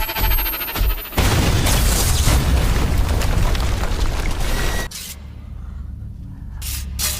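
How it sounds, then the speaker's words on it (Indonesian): EMP bomb detonating in the film Kill Command, a loud, broadband rushing blast that roars steadily for several seconds, then cuts abruptly to a low rumbling aftermath. "saat itulah Mills meledakkan bom EMP-nya"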